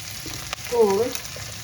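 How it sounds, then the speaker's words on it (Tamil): Ingredients for a dried fish curry fry in hot oil with a steady, close sizzle. A brief tonal whine cuts in midway through this short stretch. "எண்ணெயில் வதங்கி பொறிஞ்சு வருது"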